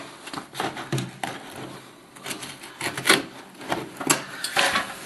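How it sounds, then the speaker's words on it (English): A knife saws and scrapes through a small piece of carpet in a run of rough rasping strokes, close and fairly loud, with no talking. "I'll cut this little piece of carpet down a little bit"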